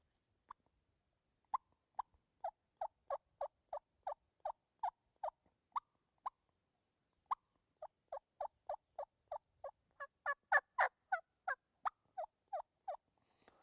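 Soft tree yelps on a turkey call, imitating hens waking on the roost: about two dozen short, evenly spaced muted notes in a steady run, close and alone with no talk.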